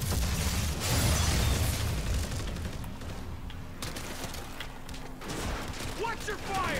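Sustained gunfire and bursts in Call of Duty Modern Warfare 3 Zombies, dense rattling shots early that thin toward the end, heard under game noise.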